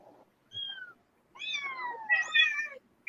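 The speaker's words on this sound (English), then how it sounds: "My cat's going crazy." A cat meows repeatedly and close by, a short call followed after a pause by longer, drawn-out wavering meows, loud and insistent against a quiet background.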